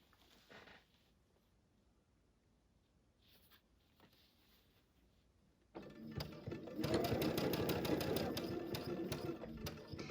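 After several seconds of near silence, a sewing machine starts feeding a quilt seam, its quick rhythmic stitching close and steady through the final stretch.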